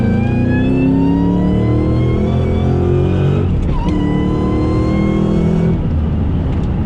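A Ford Terminator Cobra with a T56 manual gearbox accelerates hard, its engine note climbing steadily, breaking briefly at a gear change, then rising again. The car is close, loud and continuous, with no talking.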